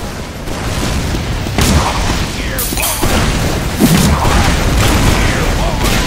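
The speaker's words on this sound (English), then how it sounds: "you rocket jumped up there and rocketed me" Rocket explosions in a team-based multiplayer shooter: several loud, close blasts and pops land at irregular intervals over a busy, continuous game din.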